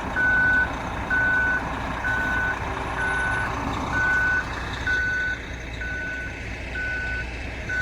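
A cement truck's reversing alarm beeps in a steady, regular rhythm, about eight evenly spaced beeps over a low engine rumble outdoors in cold, snowy weather.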